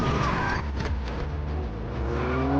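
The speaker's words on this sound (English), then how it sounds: "then stepped on the gas and took off" A car accelerating hard in a film chase scene, with a dense, continuous engine roar and tyre noise that stays loud and close throughout, with no talking over it.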